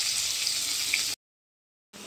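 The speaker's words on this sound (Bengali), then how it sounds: "এখানে আলু ভাজা বসিয়ে দিয়েছি। আলুটা ভাজা ভাজা হয়ে গেলে তারপরে মশলাটা দেবো।" Steady broadband sizzle of potatoes frying in hot oil, close and continuous, cutting out abruptly for a moment before resuming.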